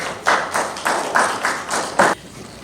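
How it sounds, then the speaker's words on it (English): Clapping at a ceremony for a new national heritage area, six evenly spaced, distinct claps sounding close and crisp against a quiet background. "Round of applause as we invite them to the stage."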